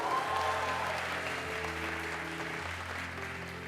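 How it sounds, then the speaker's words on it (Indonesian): An audience at a university public lecture claps steadily for several seconds, a dense, even wash of applause in a large room with no voices over it. "Tepuk tangan untuk Georgetown Uni."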